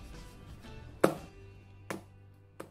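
A keto blueberry cheesecake pan is rapped against a counter to knock out bubbles, giving three sharp separate knocks, the first the loudest, over a quiet background hum.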